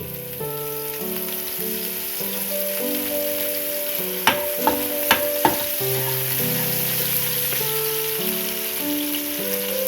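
Spring onion stalks sizzle steadily in about four spoons of well-heated cooking oil, a continuous frying crackle with a few sharp clinks midway, over soft background music.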